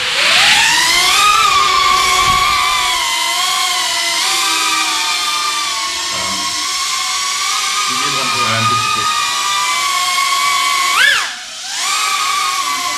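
The high, whining buzz of small FPV drone motors on a Squirt drone with a DJI system holds steady, rising and falling in pitch as the throttle changes, loud and close.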